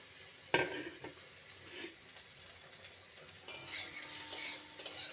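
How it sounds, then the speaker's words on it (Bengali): Soybean chunks frying in a pan, a quiet sizzle with a sharp utensil clank against the pan, then brighter crackling spatters as stirring picks up. "সোয়াবিনটাকে ভেজে নেব"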